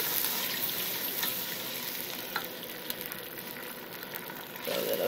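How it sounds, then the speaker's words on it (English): Tomato sauce and paste frying with stewed pig's feet in a pan, a soft continuous sizzle with a few stirring knocks, faint and close, and no talk. "Move that around, fry that up for a minute."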